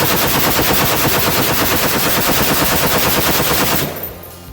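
An M60 machine gun fires a long, continuous burst, loud, close and dry, with a steady rapid rhythm that cuts off near the end.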